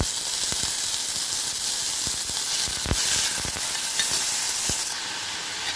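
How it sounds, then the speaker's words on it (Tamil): Cabbage for a cabbage-and-peas stir-fry sizzles steadily in a hot pan, with sharp scrapes and clacks of a spoon stirring it at irregular intervals, close and fairly loud throughout. "பொரிஞ்சிட்டு வெந்து வச்சுருக்க கேபேஜை இதில் கொட்டிடலாம்."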